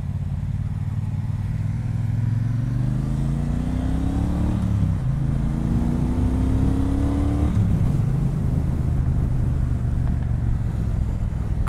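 A 2018 Triumph Bonneville Speedmaster cruiser motorcycle accelerates onto a freeway. Its loud, continuous engine drone climbs in pitch through the gears, with shifts midway and heavy wind rush underneath.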